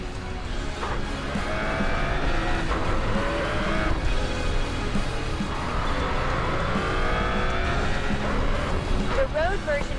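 In the Racing Master video game, a car brakes while cornering on a night run at Myogi: a loud engine whines and rises and falls in pitch under repeated tire squeal and skidding, and a voice may be talking over it.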